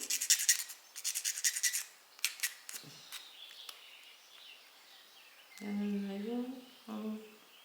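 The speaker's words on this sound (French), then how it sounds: "La petite lime sur ces parties-là." A small hand file rasps across parts of a garden house kit in quick, close scraping bursts, then scattered lighter strokes, with a short tonal, voice-like sound near the end.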